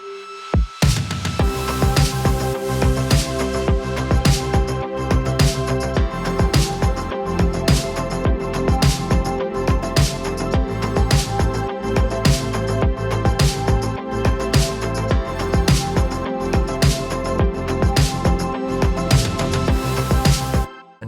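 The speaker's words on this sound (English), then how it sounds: "I also added in some last bits of just ear candy, like some risers and some impacts as well" Risers and impacts serve as ear candy in a Billie Eilish-style pop production, heard over a dense, loud full mix with steady drum hits throughout and no voices talking.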